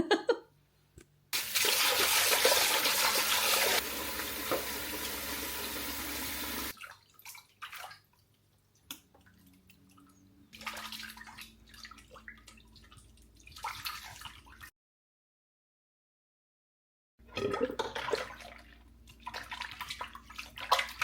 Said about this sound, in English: I will actually wash the other skein of yarn because it has cooled down enough